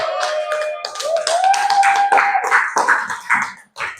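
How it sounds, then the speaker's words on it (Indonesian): Students in an Indonesian classroom clap for group 1, with quick rhythmic claps and taps mixed with voices chanting or singing together before the sound breaks off near the end. "Tepuk tangan untuk kelompok 1"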